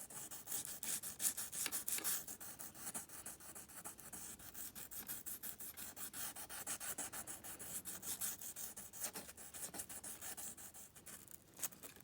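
Sandpaper rubbing over wooden turning tools in steady back-and-forth strokes, a close, continuous rasping scrape with no talking.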